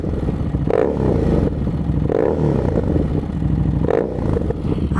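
A Harley-Davidson Street Rod 750 with an unbaffled Vance & Hines exhaust rumbles close by, blipped in three short throttle revs over a loud, steady idle.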